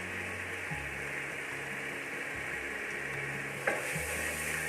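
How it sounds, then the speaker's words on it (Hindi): Tomato and spice masala, with red chilli and coriander powder, frying and being stirred in a pan, a steady close sizzle with low scraping knocks from the stirring and a sharper clink near the end. "जो हमारा टमाटर और मसाला है उसे हमें भूनते हुए करीब 2 मिनट हो गए हैं"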